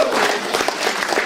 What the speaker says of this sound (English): let's get a round of applause for our panel of judges